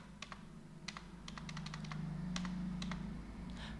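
Keys clack on a computer keyboard in short, light bursts of typing with a steady hum underneath, the presses close but soft and scattered over a few seconds.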